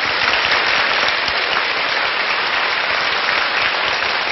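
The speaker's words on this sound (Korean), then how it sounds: "박수로 좀 환영을 해주시고요" A studio audience at a Korean lecture show applauds to welcome a guest's wife, giving a dense, even wash of clapping that stays steady and loud with no voices.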